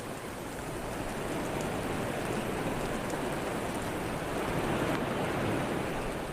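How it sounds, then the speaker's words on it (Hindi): The Seven Sisters Falls in rainy Cherrapunji, where seven streams join, make a steady, broad, hissing roar of rushing water that stays constant throughout with no voices. "इनमें से एक है ये सेवन सिस्टर्स फॉल।"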